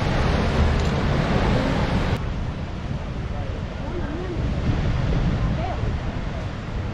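Large ocean waves crash in a steady broadband roar at a remote coastline, with heavy wind noise buffeting the microphone throughout.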